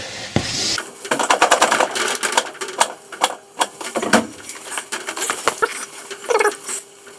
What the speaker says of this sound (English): Just going to give a couple of quick pumps on the pedal there just to settle them back in again.